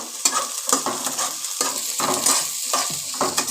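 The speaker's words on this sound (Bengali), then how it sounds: "এখানে আড়াইখানা পেঁয়াজ কুচি দিয়েছি এটা তেলের ওপরে একটুখানি সামান্য ভাজা ভাজা করে নেব" Two and a half chopped onions fry lightly in oil, a bright sizzle broken by repeated stirring scrapes in an uneven rhythm, close and moderately loud.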